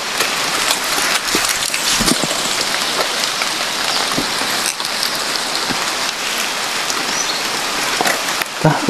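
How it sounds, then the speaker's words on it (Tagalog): Rain pours steadily onto surfaces, a dense close hiss broken by scattered louder drops and splats, with no speech. "Ulan pa."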